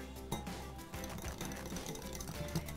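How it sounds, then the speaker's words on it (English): A frappuccino mix thickened with guar gum being whisked in a container, producing a rapid, steady whirring rattle that runs throughout at low level with no talking. "I'm gonna start whisking it here"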